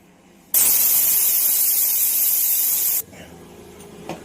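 A loud, steady hiss of steam bursts out from a pressure cooker cooking rice for a few seconds, then cuts off abruptly, leaving quiet room noise.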